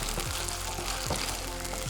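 Freshly cut cubed chicken fries in a hot pan with a steady, dense, close sizzle throughout and faint stirring scrapes. There is no talk.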